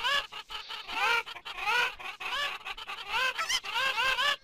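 Repeated honking, clucking calls of a Minecraft chicken from a Legend of Zelda sound resource pack, loud and close, in quick back-to-back bursts with no talk.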